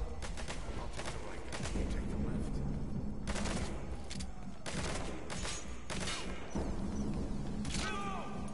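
Gunfire in Metal Gear Solid V's hospital escape opening, with scattered loud shots and short bursts cracking at irregular intervals over a rumbling background.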